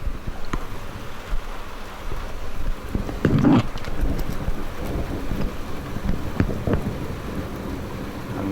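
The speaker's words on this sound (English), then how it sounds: "The rain also coming on as we get some more flashes going about." Rain falls during a thunderstorm in northwest England, a continuous hiss with wind buffeting the microphone and a low rumble swelling midway, heard outdoors without speech.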